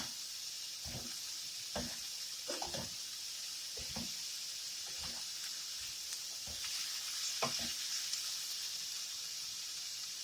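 Egg roll in a bowl ingredients such as bean sprouts sizzle in sesame oil in a pan, a constant bright hiss broken by repeated scraping stirs at a steady rhythm, close and clear with no talking.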